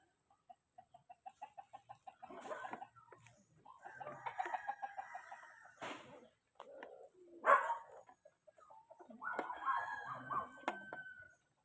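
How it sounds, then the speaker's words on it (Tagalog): Several native chicken roosters crow one after another, with intermittent clucking in between, fairly distant and faint against a quiet background. "Ayan o, oh, mga native na manok yan."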